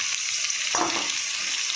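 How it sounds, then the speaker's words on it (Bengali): Onion and potato frying in a pan, a steady close hiss of hot oil with one brief stirring clatter partway through, with no talking. "পেঁয়াজটা হালকা ভাজা হয়ে গেছে, এবারে আমি আলুটা দিয়ে দেবো।"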